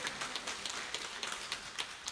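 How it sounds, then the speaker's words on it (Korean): A church congregation at a Sunday worship service applauding, a dense, even patter of many hands clapping together at moderate distance, sustained throughout without speech. "우리 한번 박수 쳐주세요"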